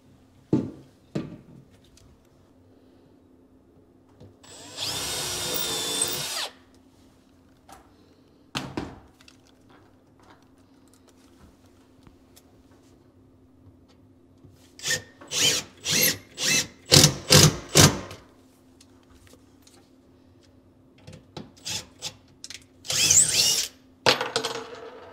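Power drill driving screws while a kitchen cabinet is installed: a long steady whir, then a run of short rhythmic bursts and a few final pulses, close and fairly loud, with quiet gaps and small clicks between.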